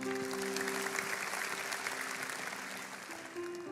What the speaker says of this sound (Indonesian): Kasih tepuk tangan untuk Tuhan